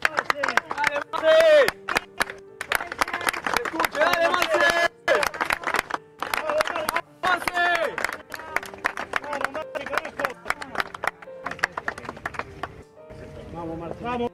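Camera operators applaud at a farewell in La Chacarita cemetery, steady clapping from a gathered group that carries on for several seconds under crowd noise and voices, fading toward the end.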